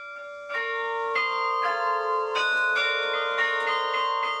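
Carillon bells of Forcalquier in Haute-Provence ring out a melodic sequence of bright, overlapping strikes, each tone sustaining and ringing into the next, clear and fairly close.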